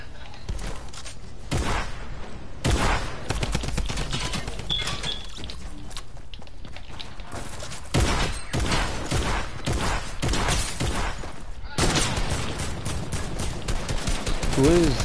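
Bursts of video game gunfire aimed at the player, rapid cracking volleys and thuds that recur through the clip, loud and close, with a voice reacting at times.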